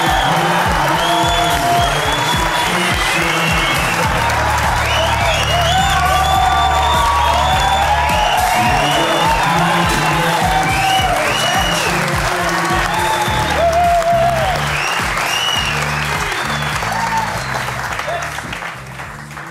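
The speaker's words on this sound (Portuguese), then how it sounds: "faça um barulho para a Super Nanny" A studio audience on a Portuguese late-night comedy talk show applauds and cheers loudly and steadily, with whoops rising over dense clapping for the full stretch before it begins to fade.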